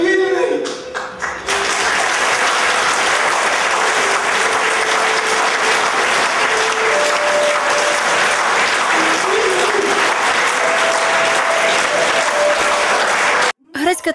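Sustained, loud theatre applause from an audience after a Greek tragedy staged in Hutsul folk style, a dense wash of clapping lasting about twelve seconds, with a few voices mixed in, before it cuts off abruptly.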